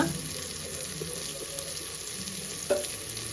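Tomato frying in a pressure cooker for sambar rice, a steady close sizzle with faint stirring and scraping, no talk.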